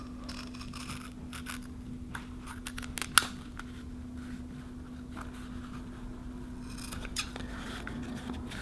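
Scissors snip and crunch through a plastic drink cup, with repeated small cuts and one sharp louder snap partway through, close and alone.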